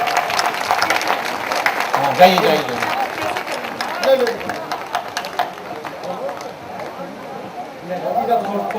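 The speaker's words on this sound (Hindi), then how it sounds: "जोरदार तालियों से इस्तकबाल कीजिएगा।" Audience applause at a Pasmanda Muslim Samaj officials' conference: steady, dense clapping from a crowd for the whole stretch, with a few louder swells, while someone speaks over it.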